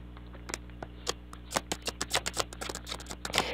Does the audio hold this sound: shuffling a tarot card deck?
yes